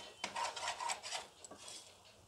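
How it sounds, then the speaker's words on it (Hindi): Gram flour (besan) roasting in a pan on a low flame: soft rhythmic scraping and rubbing of a spoon against the pan in several strokes, close but quiet, with a faint sizzle and no talking. "अच्छे से हम इसमें भून लेते हैं इसे"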